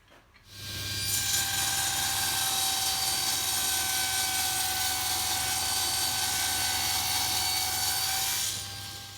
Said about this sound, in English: they were then cut the final length using the cross-cut sled on the table saw